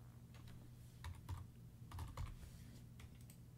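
Someone typing on a computer keyboard, a short cluster of soft close keystrokes in two quick bursts over a low steady hum, with no talking.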